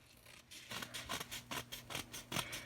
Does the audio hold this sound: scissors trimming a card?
yes